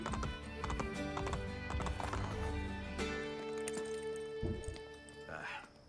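Horse hooves clip-clop in the Assassin's Creed Brotherhood video game, a busy rhythmic clatter of several horses mixed with game effects and a tonal score, with talk faintly underneath.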